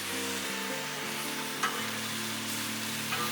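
Pineapple slices and smashburgers on a hot Blackstone flat-top griddle give a steady, loud sizzle, with faint spatula scrapes and taps as the food is flipped; no talking.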